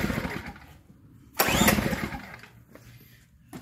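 A small gasoline engine on a dual-fuel 3000W-class inverter generator cranks and briefly catches with a loud burst, then sputters and fades back toward quiet without settling into a steady run.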